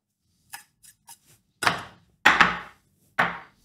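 Herbs for tartare sauce being finished with a few knife chops on a cutting board: several light taps, then three louder, separate chops, close and distinct with quiet gaps between.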